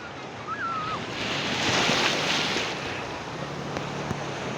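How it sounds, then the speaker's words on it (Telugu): Big ocean waves break on a beach in a steady, broad rushing roar that swells in the middle, heard close with wind buffeting the microphone. "పెద్ద పెద్ద అల్లు వస్తున్నాయి."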